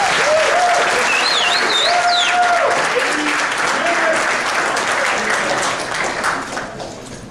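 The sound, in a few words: audience applause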